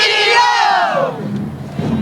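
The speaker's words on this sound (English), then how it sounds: "To try and cheer the team to victory." A crowd of fans at a team rehearsal shouts a loud, rising battle cry that swells and then fades into a lower murmur of cheering voices.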